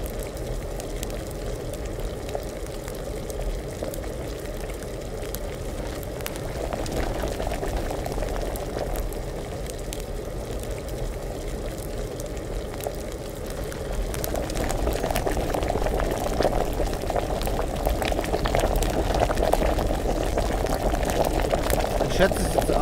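Liquid boiling over a fire in Kingdom Come: Deliverance, a continuous bubbling hiss that grows louder partway through, with someone talking quietly underneath.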